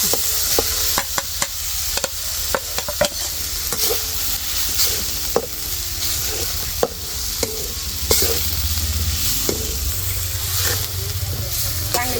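Onion, peanut and spice masala sizzles in a pan while a spoon stirs it, with steady frying crackle broken by repeated scraping clacks against the pan, close and loud.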